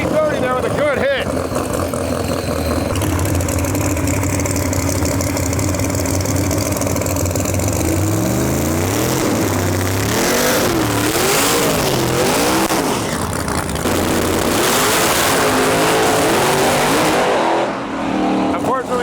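A Pro Mod drag racing car makes a full-throttle testing run, the engine roaring loudly and climbing through its revs with a harsh, continuous scream that stays close and dominant, while a voice talks over it.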